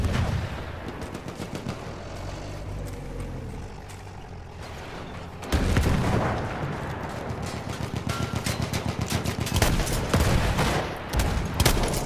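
Gunfire crackles through a Battlefield 1 battle as a shotgun blasts amid a dense, continuous fusillade of shots, the bursts loud and close, with a heavy rumble underneath and a sharper surge of firing in the second half.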